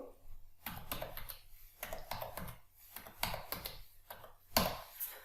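Fingers type numbers into an Excel spreadsheet on a computer keyboard, making close, quiet bursts of clicky keystrokes in irregular clusters separated by short pauses.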